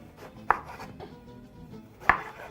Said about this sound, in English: So I'm going to start by chopping my eggplant.